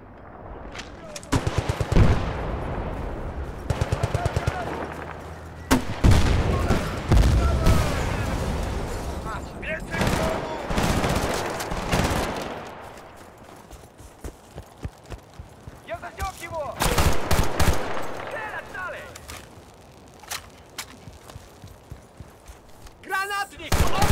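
Battlefield: Bad Company 2 gunfire, with repeated loud bursts of rapid automatic shots and single cracks coming in waves, interspersed with quieter stretches and voices talking.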